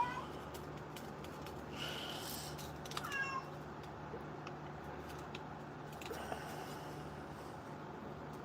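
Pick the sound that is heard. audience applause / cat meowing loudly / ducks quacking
cat meowing loudly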